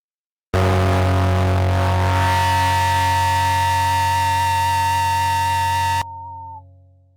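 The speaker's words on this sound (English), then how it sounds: "It's just like a whistling sound that it adds to it." Guitar Rig effect plugin adding a whistling distortion: a loud sustained distorted tone with a high steady whistle appearing partway, cutting off abruptly with a brief fading tail.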